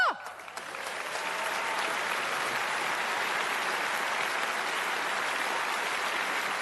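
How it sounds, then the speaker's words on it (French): Audience applause for the Georges Robert Jazz Orchestra at a stage show, a steady dense wash of clapping from a large crowd that swells in after a brief moment and holds evenly throughout. "un tonnerre d'applaudissements pour le Georges Robert Jazz Orchestra"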